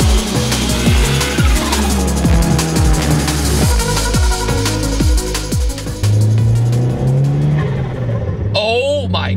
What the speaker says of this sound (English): So what's it like driving a 300 horsepower little Chevy Sonic?